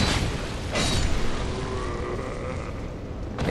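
Fireworks going off outdoors on Christmas Eve, a continuous low rumbling boom with muffled bursts heard from a distance, filling the whole stretch without talk.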